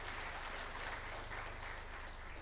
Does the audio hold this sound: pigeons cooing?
no